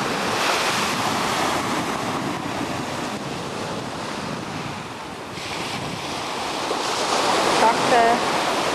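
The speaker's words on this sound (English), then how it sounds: "Talk to surfer Jess about the waves" Ocean surf on a Hawaii beach, a continuous loud wash of breaking waves mixed with strong wind buffeting the microphone, swelling and easing over several seconds.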